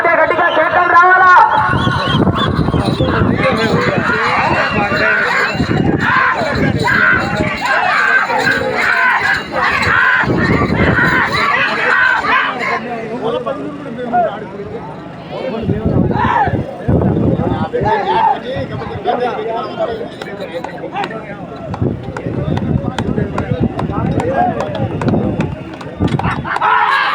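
Crowd shouting and cheering at an outdoor bullock pulling contest for Kunduru Rambhupal Reddy's bulls, a loud continuous roar of many voices with a commentator talking over it and surging bursts throughout.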